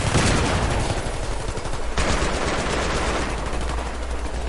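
Dense, continuous automatic gunfire from the video game Battlefield 3 keeps up without pause for the whole stretch. It stays loud and close, with rapid overlapping shots and no voices.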